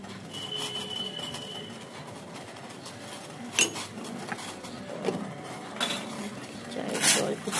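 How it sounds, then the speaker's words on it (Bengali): A spoon stirring milk into boiling tea water in a metal pot, heard as several sharp clinks and scrapes against the vessel, close by, spread irregularly across the moment with faint background sounds. "দুধটা গুলিয়ে নিই।"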